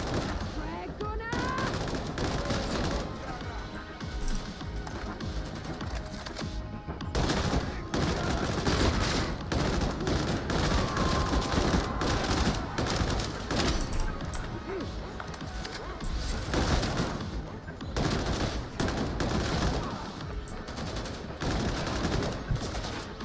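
Dense, continuous automatic gunfire and shooting from the Warhammer 40,000 video game Darktide, rattling without pause alongside game effects and voices talking over it throughout.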